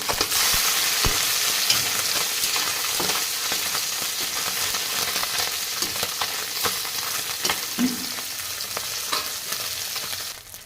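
Puti fish frying in mustard oil in a wok, a continuous close sizzle with scattered pops and a few stirring or turning clicks, no talk.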